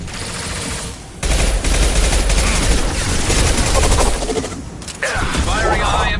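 Sustained heavy gunfire from a high-impact shot in Mass Effect 2, a loud dense burst that starts abruptly after a short lull, keeps pounding for several seconds, then briefly drops before resuming.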